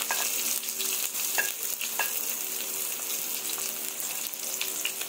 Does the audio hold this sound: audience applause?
no